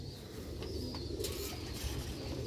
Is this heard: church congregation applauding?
no